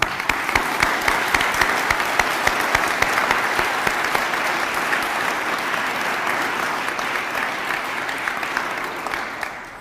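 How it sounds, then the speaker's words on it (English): Sustained audience applause fills a teacher awards ceremony hall, a dense, steady wash of clapping from many hands at close range, continuing evenly throughout without voices over it. "A round of applause for all of you."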